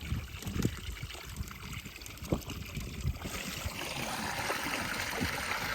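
Spring water running from a tap into a one-litre bottle: a steady trickle that swells into a fuller, rushing pour as the bottle fills, with faint background sounds.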